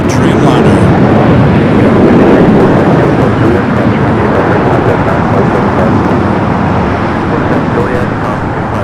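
A KLM Boeing 787 Dreamliner airliner on the north side at Los Angeles International Airport, heard as a loud, steady broadband engine roar that holds for the whole stretch, with faint radio chatter over it.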